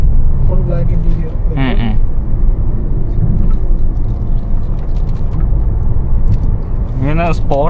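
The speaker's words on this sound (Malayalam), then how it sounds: "ഇങ്ങനെ സ്പോർട്സ് ഇടുമ്പോഴത്തേക്ക് സൗണ്ട് ഒക്കെ വ്യത്യാസം വരുന്നത് അല്ലേ?" A Hyundai Creta N Line with DCT gearbox driving in sport mode gives a steady loud low engine rumble throughout, with brief whining tones at moments, heard from inside the cabin.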